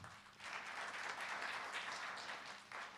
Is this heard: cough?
no